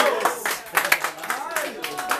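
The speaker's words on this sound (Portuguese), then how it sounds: "Obrigado pelas palmas." An audience at a Brazilian freestyle rap battle clapping steadily, a scattered patter of applause that stays moderately loud for a couple of seconds.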